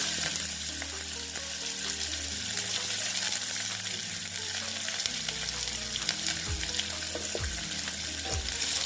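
Chopped onion and mustard seeds fry in hot oil for besan bhindi, giving a steady close sizzle with a few dull stirring knocks in the pan.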